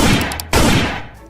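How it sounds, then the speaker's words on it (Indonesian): Firing from a toy airsoft pistol comes as a dense, loud burst of rapid cracks and rattles, close by, with a brief gap midway before it fades out. "Wow, ada pistolan airsoft gun."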